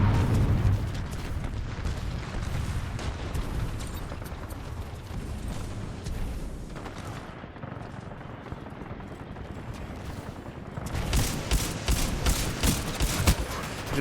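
Grenade blasts and gunfire from the video game Titanfall 2 form a dense, continuous barrage of booms and rapid shots, loud and close throughout.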